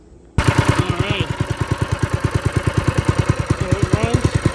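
Small pressure washer engine, newly replaced, running steadily with a fast even chugging exhaust pulse, loud and close, after a brief quiet start.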